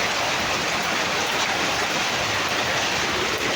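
Rainwater flows over fresh cement in a steady, dense wash of splashing and rushing water, loud and continuous throughout with no voices.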